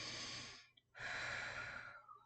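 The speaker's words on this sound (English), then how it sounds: "let's take a few more deep breaths" Two long, deep breaths taken slowly and close by, each a broad, airy rush of inhale or exhale lasting about a second, split by a short pause with a faint click, in a quiet room during a guided grounding exercise.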